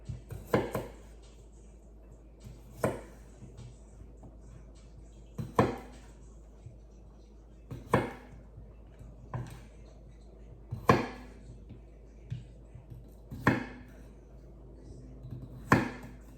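Potatoes are cut into quarters with a knife. About eight sharp chops land on a cutting board at a slow, uneven pace, close and distinct against quiet background clatter.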